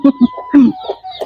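A chicken clucks in short, repeated bursts close by, several quick clucks in a row, with a voice talking over part of it.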